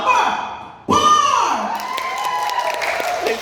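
A crowd erupts in loud shouting and cheering for a contestant at a comedy show's Mr. Pogi pageant, a sudden roar that rises sharply and carries on with whoops and scattered thumps.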